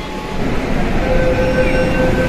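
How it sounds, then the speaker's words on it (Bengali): A Kolkata metro train pulls out of the station on the Howrah–Esplanade line, a steady loud rumble with rising motor whine and rolling noise filling the platform, no voices. "এই যেই মেট্রোটায় আমরা আসলাম সেটা আবার রিটার্ন যাচ্ছে স্প্ল্যানেড"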